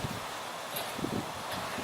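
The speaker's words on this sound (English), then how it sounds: "It's already a little windy." Gusty wind rushes and buffets the microphone outdoors ahead of Hurricane Irma, a continuous broadband roar with rustling and no talking.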